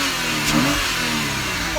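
A Porsche Cayman engine with its engine cover removed revs in a parking garage, a loud, close, sustained engine roar with a brief rising pitch sweep echoing in the enclosed space.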